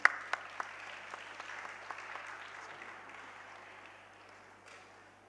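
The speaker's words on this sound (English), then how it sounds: "Can we please have a round of applause for our talented musicians?" An audience applauds musicians after a performance at a school opening ceremony, with a burst of sharp claps at the start settling into steady, gradually fading applause.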